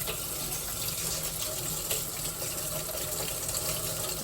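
Water runs steadily from a sink tap, a constant even splashing hiss close by that fills the whole stretch without any talking.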